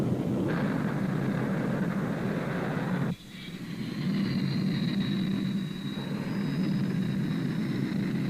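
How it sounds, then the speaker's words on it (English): A Grumman A-6E Intruder jet attack bomber roars with a loud, steady engine rumble and whine, continuous throughout with a brief dip midway. "The Grumman A6E Intruder"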